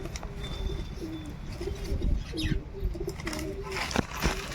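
Pigeons coo in a steady run of low, rolling calls against outdoor background noise, with a few soft wing flutters.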